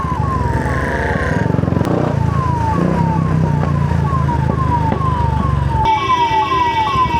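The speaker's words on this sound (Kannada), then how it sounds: "ಈಗ ಇಲ್ಲಿ ಘಾಟಿಯಲ್ಲಿ ಈ ಥರ ಸೈರನ್ ಹಾಕಿದರೆ" An ambulance siren wails loudly and close by on a mountain ghat road in monsoon rain, with a steady repeating up-and-down pattern that switches abruptly to a different siren tone near the end, over the hum of traffic.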